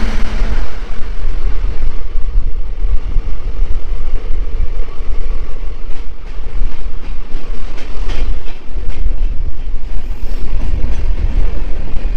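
The Padatik Express rolls past at a station beside tea gardens, its loud, steady rumble and clattering wheels sustained and close throughout, with no voices.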